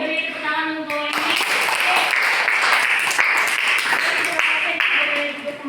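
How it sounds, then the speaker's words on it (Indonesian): Classroom applause during a micro-teaching lesson, a dense burst of many hands clapping that fills most of the stretch after a teacher's voice at the start and fades under her speech at the end. "beri tepuk tangan untuk ini."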